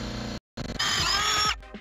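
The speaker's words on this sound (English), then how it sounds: "Gonna move it and then drill some more holes." Power drill boring holes, a short burst of whirring after a brief silence, loud and close, then winding down with a few faint knocks.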